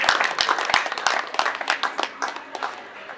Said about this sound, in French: Acclamons s'il vous plaît pour l'encourager